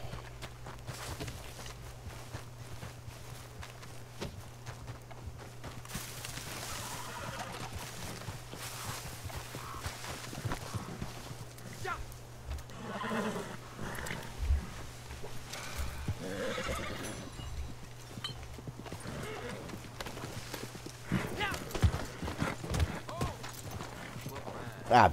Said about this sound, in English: I gotta go save my horse.